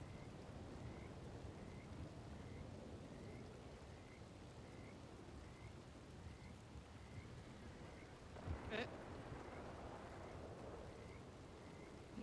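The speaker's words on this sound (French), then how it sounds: "Pas de soleil, rien que de la pluie." Rain pours in a western video game, a steady low hiss with a faint repeating tone and a short louder crackle partway through, no clear talking.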